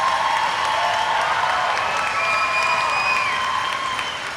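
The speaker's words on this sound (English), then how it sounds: "Can we please give a round of applause for both teams?" A roller derby crowd at a championship bout gives a round of applause and cheers for both teams, with dense clapping and shouting filling the arena steadily throughout, loud and sustained.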